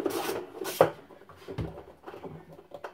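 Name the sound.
ratchet loosening a bolt on a Maytag Bravos XL washer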